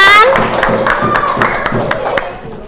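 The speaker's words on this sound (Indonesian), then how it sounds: "tepuk tangan." A school class claps hands in a quick, patterned rhythm in an Indonesian classroom, the sharp claps coming close and loud just after a teacher's voice trails off.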